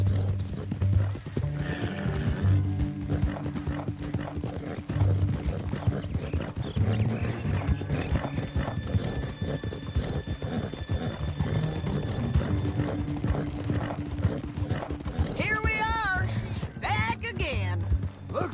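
A horse gallops in Red Dead Redemption with a steady, loud clip-clop of hooves and a whinny near the end, under game music and voices talking.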